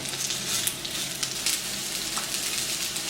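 Chicken nuggets fry in a pan over high heat with a dense, even sizzle and scattered sharp crackles as the pieces are turned.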